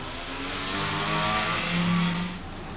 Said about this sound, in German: wenn ein Fahrzeug rückwärts aus einer Ausfahrt kommt